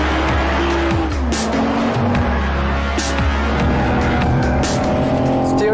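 A 2021 BMW 4 Series driven fast with oversteer, its engine revving up and down while tires squeal repeatedly in sharp, close bursts.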